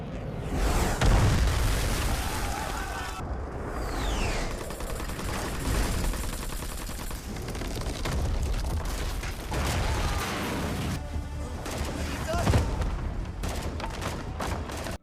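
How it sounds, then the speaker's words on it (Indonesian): Dense, continuous battle noise from a fighter jet strafing a training camp: rapid bursts of gunfire and heavy booming explosions overlapping for the whole stretch, loud and close, with no talk. "datang pesawat tempur yang menembaki orang-orang di pelatihan yang membuat semua"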